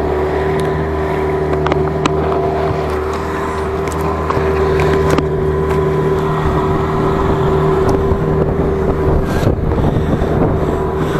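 A small motorboat engine drones steadily and loudly throughout on the Amur River, with wind buffeting the microphone and water noise underneath.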